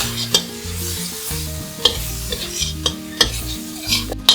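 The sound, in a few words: stir-frying ramen ingredients with soy sauce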